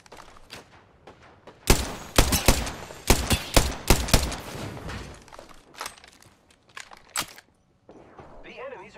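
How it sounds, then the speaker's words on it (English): Enemy gunfire in a video game: bursts of rapid shots crack loudly in clusters, with quieter gaps, footsteps and mechanical clicks between volleys. "The enemies are shooting at me."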